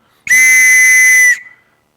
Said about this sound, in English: Whistle goes in my mouth.